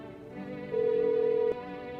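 A phone call plays in a video game, a steady electronic tone holding for about a second over a faint background hum, with no talk.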